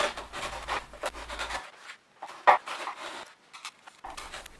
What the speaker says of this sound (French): Lorsque vous dégrossissez comme ça au ciseau, faites bien attention au sens du fil du bois.